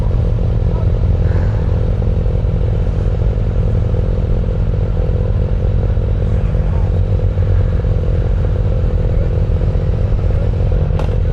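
Suzuki GSX-R1000 motorcycle exhaust heard from another bike on a leisurely ride, a steady low engine drone with constant wind rush and faint clatter throughout, loud and unbroken.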